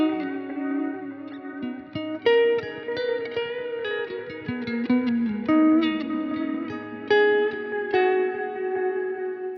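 Electric guitar played through a Line 6 Helix set for a Strymon Timeline-style delay with reverb: a steady stream of picked notes and chords, each trailing repeats and a washy tail, moderately loud and with no voices.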